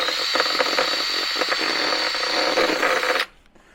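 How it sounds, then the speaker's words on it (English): A power drill bores a hole into the bottom of a Jeep Gladiator for a Rugged Ridge snorkel fitting, a loud, steady whine with gritty chatter that lasts about three seconds and then stops abruptly. "I'm gonna drill a hole."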